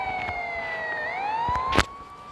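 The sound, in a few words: police siren in Indian Theft Auto video game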